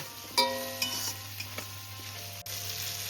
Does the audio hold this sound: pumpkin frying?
yes